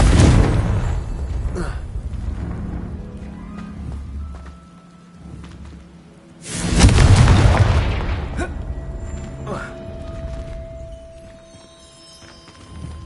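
Spell blasts in a Hogwarts video game go off as deep booming explosions, one big blast early and another loud one midway, each trailing into rumbling debris and scattered game sounds.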